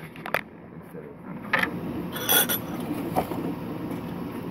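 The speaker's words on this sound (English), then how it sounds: "Basically, it's like you just have to crank it." Ratcheting, clicking hand crank being turned on a Tenergy lantern kit, with uneven bursts of gear and pawl clatter at close range and no talking.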